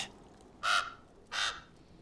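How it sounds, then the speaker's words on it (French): A crow caws twice, two short harsh calls spaced under a second apart, clear against a quiet background, from a Game of Thrones episode. "Un corbeau."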